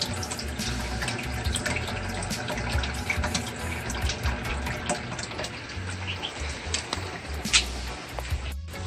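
Water from a tap pours steadily into a container at an aquarium setup, a continuous close splashing rush that lasts throughout with only slight variation.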